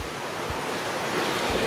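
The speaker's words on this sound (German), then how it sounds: "jetzt kommt zu viel Wasser von oben" Rushing water at river rapids, a steady broadband roar that fills the whole clip, loud and continuous with a few low thumps, no voices.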